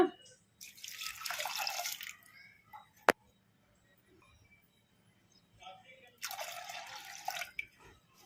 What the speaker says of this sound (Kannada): ಅದೇ ಕಪ್ಪಿಂದ 2 ಕಪ್ ನೀರು ಹಾಕೋಣ